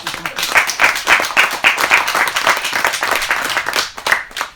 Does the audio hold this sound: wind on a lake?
no